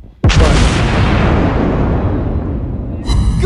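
A loud, booming ship cannon blast in a video game erupts and rumbles on, followed by a second sharp report near the end.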